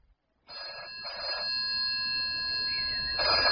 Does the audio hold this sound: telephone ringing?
yes